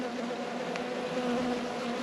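Bees hum in a steady, continuous drone throughout a hive inspection, close and even in level, with no voices.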